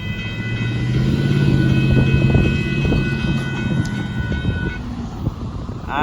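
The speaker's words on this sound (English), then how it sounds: "there goes the Southbound Amtrak" The southbound Amtrak Texas Eagle passenger train passes at a road crossing in Austin, Texas, a loud close rumble with clicking wheels and a sustained whining tone, fading slightly toward the end.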